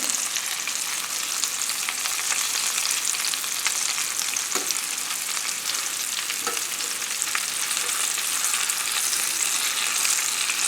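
Chicken tidbits, cooked without breadcrumbs, fry in a 10-inch pan with a steady, loud, dense sizzle that runs unbroken throughout, a couple of faint clicks from a turning tool breaking through.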